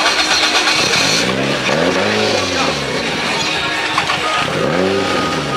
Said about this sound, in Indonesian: You want to start? But very hard to start, you need to step the pedal.